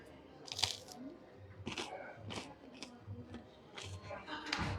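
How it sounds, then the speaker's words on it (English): Bites into crunchy pizza bianca bread dressed with olive oil, several sharp crisp crunches at irregular intervals with chewing between, close up. "some olive oil on it, crunchy, flavorful bread"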